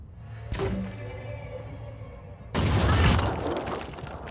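A grenade detonates in the tactical game Phoenix Point: a sudden loud burst that swells into a roaring, crackling blast lasting about two seconds, after a smaller earlier impact.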